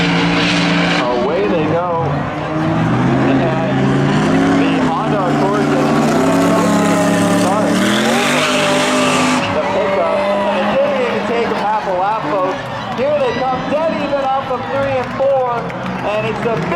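Spectator drag racing vehicles, including a 2004 Colorado truck, roar and rev at Seekonk Speedway, engine pitch climbing and sweeping as they race past, under continuous loud announcer commentary.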